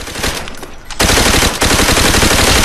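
Rapid automatic gunfire in the first-person shooter Call of Duty: World at War, a loud continuous machine-gun stream that swells sharply after a brief dip, close and alone without talk.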